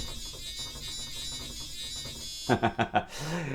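A kinura theatre organ reed stop: a thin, buzzy, nasal reed tone sustains steadily, then a few short punchy notes sound in quick succession before a held, snarling chord.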